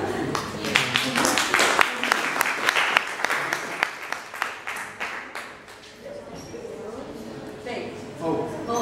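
An audience at a youth conference in Oradea breaks into steady, fairly loud clapping that carries on for several seconds, with voices mixed in and the applause easing off toward the end.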